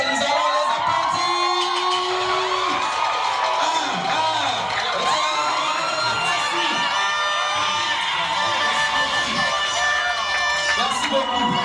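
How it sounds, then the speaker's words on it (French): Wedding guests cheering and whooping for a standing couple, a loud, continuous crowd roar with excited shouts and ululating voices layered over each other for the whole stretch. "couple Moutombo Martin et Maman Gomba Régine de se tenir debout pendant que nous allons les applaudir."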